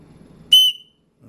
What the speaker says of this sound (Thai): ได้ยินเสียงนกหวีดรู้กันว่า มันมีอันตรายเกิดขึ้น